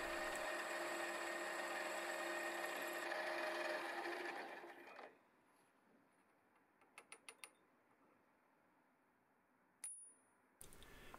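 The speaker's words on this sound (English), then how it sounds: "I'm drilling them to the required depth using the hand wheel gauge on the drill quill feed" A steady mechanical whir of a drill press drilling screw holes in a custom electric guitar part for several seconds, then stopping, followed by a few faint clicks and taps in a quiet workshop.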